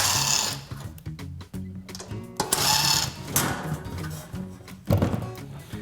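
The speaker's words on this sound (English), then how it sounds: "So let's undo all of our screws." Screws being undone on an Omega Super Charger 4500 psi compressor during a service: close, repeated clunks and knocks with short bursts of whirring, loudest near the end.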